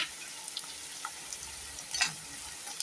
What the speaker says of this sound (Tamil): நல்லா வெந்த உடனே இப்போ நம்ம எடுத்து வச்சுருக்கிற கிழங்கு பொட்டேட்டோவை போட்டுடலாம்